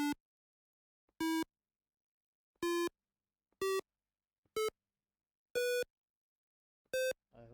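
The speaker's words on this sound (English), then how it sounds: "let's start the simulation and let's see how this piano sounds like" Simulated piano on an Arduino in a Wokwi simulation gives seven separate electronic buzzer beeps at stepping pitches, each short and harsh, with clear silent gaps between them.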